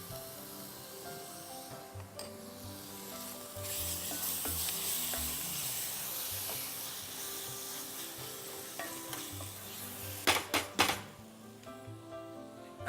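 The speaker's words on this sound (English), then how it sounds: "Now what we're going to do is we're going to add the mutton into it." Mutton browning in a pot with red chili powder and coriander powder, a steady frying sizzle that swells and holds, broken near the end by a few sharp clinks of a utensil against the pan.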